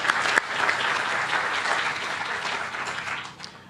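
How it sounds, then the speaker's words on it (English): At a groundbreaking ceremony for Reservoir Farms in Salinas, an audience gives a round of applause, steady clapping that fades slightly toward the end. "Give them a round of applause again."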